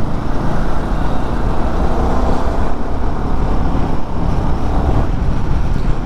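Royal Enfield Himalayan 450 motorcycle being ridden, a loud continuous engine drone mixed with heavy wind and road rush, steady throughout with no voices.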